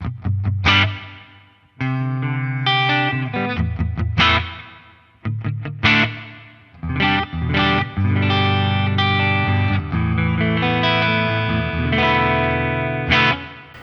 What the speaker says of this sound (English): let's check out what the reverb sounds like